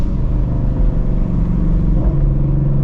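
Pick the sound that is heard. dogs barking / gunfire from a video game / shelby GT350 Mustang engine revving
shelby GT350 Mustang engine revving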